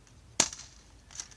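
Single sharp airsoft gun shot firing a BB, a close crisp snap followed by a faint second tick moments later in a quiet setting.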